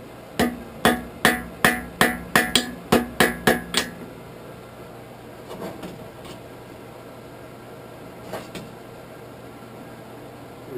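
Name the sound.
hammer tapping hot metal to forge weld poker handle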